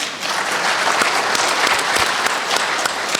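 Audience applause at a talk, a dense steady patter of many hands clapping throughout at a fairly loud, even level, with no voices.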